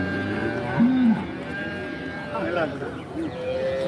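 Buffalo low at a busy cattle market, with one short moo-like call over steady crowd chatter and several animal voices, the calls moderately close amid continuous talk.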